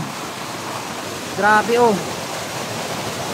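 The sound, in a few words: rushing overflowing water in a forest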